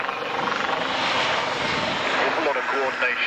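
Helicopter hovering at a 1995 airshow at Woodford in blustery wind, a continuous loud rotor and engine roar with slight fluctuations throughout.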